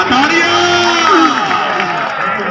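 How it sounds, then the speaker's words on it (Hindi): Crowd cheering and whooping at a stadium in Dera during a Zubair Khan versus Waseem Sheekh match, a loud sustained roar with voices rising over it for a few seconds. "तालियां"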